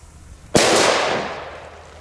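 A Gaoo Hammer H1 firecracker explodes outdoors with a single loud, sharp bang that rolls off into a long fading echo, with nothing audible before the blast.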